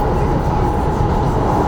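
An MBTA Orange Line subway train rides between Malden and Somerville, a loud, dense, continuous rumble and roar heard from inside the car with no breaks.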